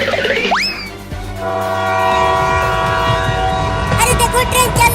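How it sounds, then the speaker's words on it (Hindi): Cartoon train pulling out of a station: a rising whistle-like sweep, then a sustained horn blast with droning engine tones and rattling wheels, a bright chugging burst near the end, with no speech. "अरे देखो ट्रेन चलने लगा।"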